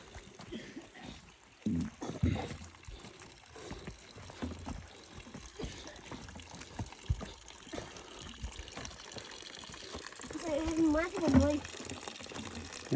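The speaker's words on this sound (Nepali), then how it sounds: "धारा आउँदैछ।" A tap at a mountain water-collection point in the Himalayas runs with a faint, uneven trickle and splash. Voices talk quietly over it, and a couple of louder splashes stand out.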